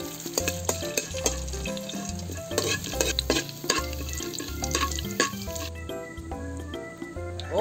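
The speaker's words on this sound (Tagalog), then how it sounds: "Maglalagay tayo ng aswete dito sa ating mantika." Annatto seeds fry in cooking oil in a pan, giving a continuous crackling sizzle with stirring scrapes, while music with a steady beat plays over it throughout.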